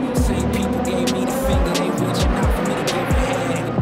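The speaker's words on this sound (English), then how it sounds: "race has started as you can hear in the background." Race cars roar at the start of the 6 Hours of Spa endurance race, a dense continuous engine din with repeated low passing surges and tire noise, loud and close throughout.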